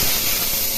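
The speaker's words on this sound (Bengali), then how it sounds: "আদা, লঙ্কা এবং টমেটো বাটা দিয়ে দিলাম" Ginger, chili and tomato paste hits hot oil with a loud, dense, continuous hiss that fills the whole moment, close and steady without pause.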